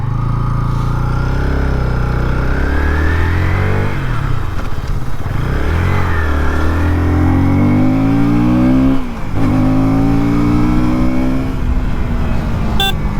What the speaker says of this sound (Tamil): ஸ்டார்ட் பண்ணிவிட்டு அந்த எக்ஸாஸ்ட் நோட்டை கேட்டிங்களா?